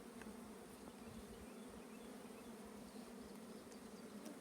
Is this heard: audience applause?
no